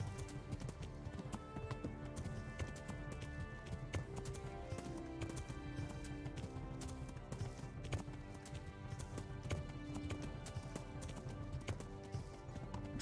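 A galloping horse in a horse race in Kingdom Come: Deliverance gives a steady, rapid clip-clop of hooves that runs throughout, under a continuous layer of game music.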